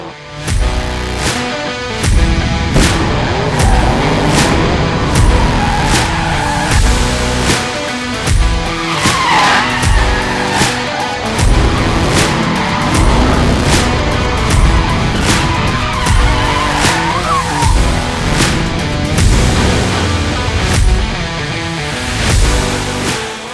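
A car drives and skids around a raceway short track in Queensland. Loud, sustained engine roar comes with repeated sharp tire squeals and skids throughout.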